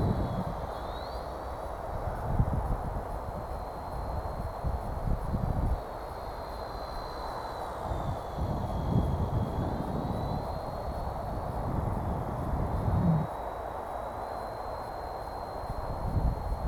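A WL toys V930 Power Star X2 four-channel brushless flybarless RC helicopter flies outdoors in the wind, giving a thin, steady high-pitched whine that wavers as it manoeuvres, with gusts of wind buffeting underneath.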